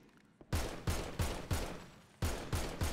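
Loud video-game gunfire at a virtual firing range in a roleplay game session, seven heavy booming shots in a steady, fairly even rhythm with a brief pause before the last three, no talk over them.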